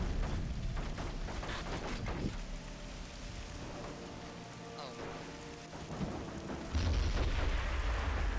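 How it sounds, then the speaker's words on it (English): Tank gunfire in the World War II strategy game Men of War Assault Squad 2 rolls as heavy booms over a dense, rain-like battle rumble, with a louder blast near the end and faint voices underneath. "Oh, they shot my barrel."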